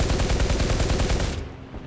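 Heavy .50 caliber machine guns hammer out a rapid, loud, continuous burst of fire in War Thunder's anti-air battle, cutting off abruptly near the end and leaving a lower rumble.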